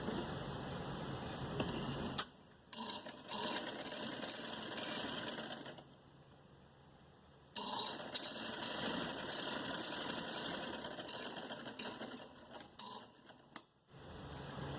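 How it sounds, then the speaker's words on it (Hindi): A sewing machine stitches a frock in long, fast runs with a steady mechanical whir and rattle, stopping briefly twice and then starting again, close and clear, with no speech. "अभी दूसरी साइड पे मैं फिटिंग की सिलाई लगा रही हूँ।"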